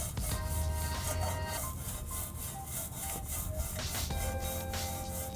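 A brush scrubs brake dust and grime off a car wheel rim between the spokes, a continuous rhythmic back-and-forth rasping with quick repeated strokes, close and with no talk.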